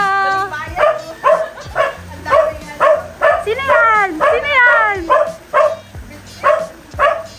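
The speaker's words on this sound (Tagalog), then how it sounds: "nagagalit yung aso ko!" A small dog yaps repeatedly in quick, steady, high-pitched barks, close by, while a person calls out over the barking.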